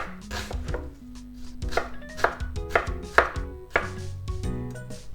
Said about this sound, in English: I'm gonna cut it like this so that you have about even size dices.